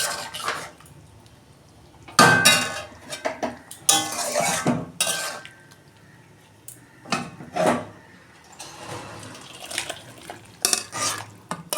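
Okra and fish curry is emptied from a cooking pot, with a metal spoon scraping and knocking against the pot in irregular loud clatters between quieter pauses, close by, no talking.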